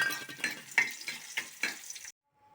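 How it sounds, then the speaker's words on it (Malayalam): Nuts and raisins frying in a pan, with steady sizzling broken by several sharp metal scrapes and clinks of a spoon, close and fairly loud before stopping abruptly. "നമുക്ക് നട്ട്സൊക്കെ ഒന്ന് വറുത്ത് കോരിയെടുക്കാം"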